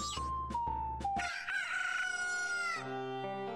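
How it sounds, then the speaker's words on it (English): Roosters crow in a video game, Majora's Mask, with several stylized cock-a-doodle-doo calls overlapping over a musical backdrop, clear and prominent with no talking. "They're turning into roosters?"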